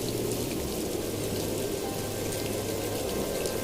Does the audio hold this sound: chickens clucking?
no